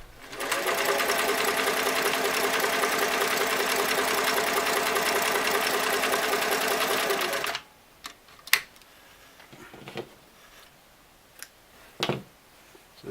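Singer Model 337 sewing machine stitching zigzag runs with a fast, steady mechanical whirring and clatter for about seven seconds, close up, then stops, followed by a few scattered clicks and handling knocks.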